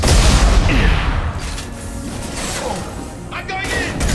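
Gunfire in the Mass Effect 2 video game, a loud, dense stretch of shots and booming impacts that stays strongest at the start. The fire carries on as a rough, continuous clatter with a few sharp bursts near the end.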